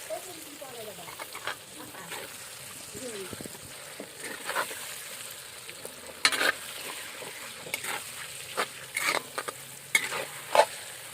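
Duck meat frying in a pan with onion and chilli, heard as a steady sizzle with repeated stirring scrapes and occasional louder clatters of the spoon against the pan.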